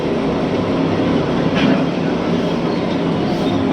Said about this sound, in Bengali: খুব সুন্দর চলছে মেশিন।